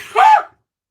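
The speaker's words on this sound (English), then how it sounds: "I'm going to sneeze." A single short sneeze bursts out close by, a quick sharp vocal explosion followed by silence.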